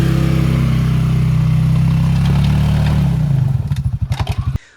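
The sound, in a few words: Can-Am Outlander Pro HD7 ATV climbing a hill in four-wheel drive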